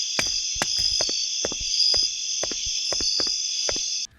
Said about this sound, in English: the crickets at night will literally burrow into your brain